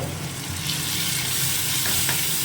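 Steady, loud sizzling of spice paste with cumin powder frying in a hot pan, with occasional stirring scrapes, continuous throughout and no voices.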